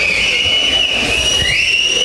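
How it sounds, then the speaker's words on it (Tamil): A crowd of Thevar supporters at an All India Forward Bloc political rally in Thoothukudi gives sustained shrill whistles, several overlapping tones sliding in pitch over a dull background murmur. "தயவு செய்து விசில் அடிக்க வேண்டாம் என்று கேட்டுக்கொள்கிறேன்"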